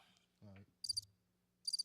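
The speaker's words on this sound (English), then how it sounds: "Crickets. Crickets." Cricket chirps used as a sound effect, two brief bursts of high trilling separated by a pause, with a short voice sound just before them.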